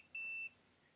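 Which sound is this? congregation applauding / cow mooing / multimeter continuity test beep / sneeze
multimeter continuity test beep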